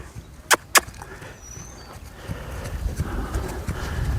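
Horse hooves clip-clopping during a training session, two sharp close knocks at the start and then a steadier run of softer footfalls over a low outdoor background.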